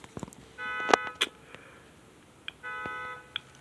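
A faulty car alarm on a parked car goes off repeatedly, giving two bursts of buzzing electronic tones with sharp beeps between them, moderately loud against faint outdoor background noise.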